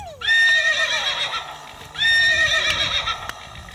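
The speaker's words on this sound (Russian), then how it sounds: "Лошадь." A horse whinnies loudly twice, each call a high, shaky neigh that falls away, with a brief pause between them.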